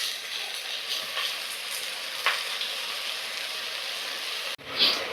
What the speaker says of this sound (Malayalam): സവോള ചേർത്ത് നന്നായിട്ടൊന്ന് വഴറ്റിയെടുക്കാം കേട്ടോ